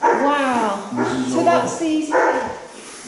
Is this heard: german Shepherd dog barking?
yes